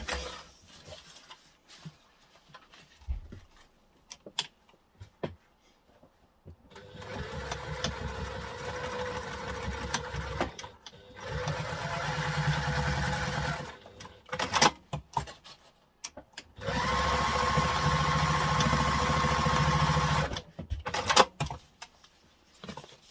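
A sewing machine stitches a fold-and-store reusable duffle bag in two bursts of steady whirring a few seconds long, close by, with quiet handling noises in between.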